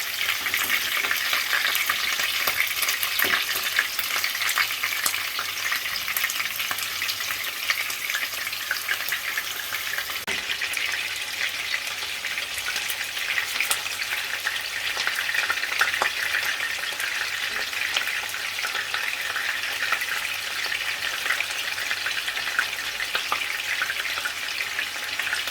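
Lamb kebabs searing in a frying pan, giving a steady, loud, close sizzle with crackling spits that runs on without a break.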